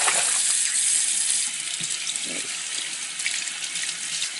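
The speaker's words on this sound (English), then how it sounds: "I'll run the sink" Sink tap running water to rinse the parts of a Kogan vertical cold press juicer, a steady close hiss of flowing water with a few splashes and clunks as items are handled.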